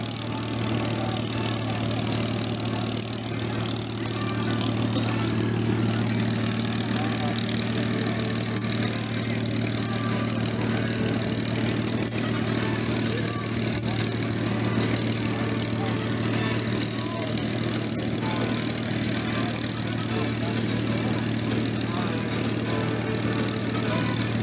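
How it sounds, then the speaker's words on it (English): Steady, loud droning rumble of a Beech 18 aircraft's 450-horsepower engines at an airshow, with a strong low hum, continuous throughout without a break. "hear the rumble of its 450 horsepower engines."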